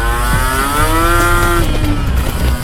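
A Kawasaki Ninja SS motorcycle with a racing exhaust revs up and then eases off, its engine note climbing and settling while the sound stays loud and close.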